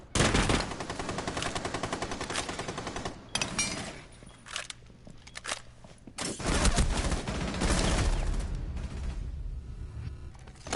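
Gunfire in a competitive shooter video game during a CTN Spartans vs. CTN Gladiators match: loud rapid automatic bursts, a short lull of scattered shots and mechanical clicks, then more sustained firing.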